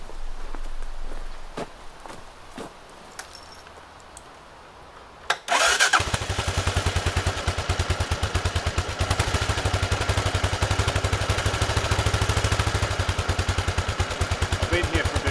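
A Suzuki DR Big single-cylinder motorcycle cranks and fires up after a few clicks and footsteps, then settles into a loud, steady thumping idle close by.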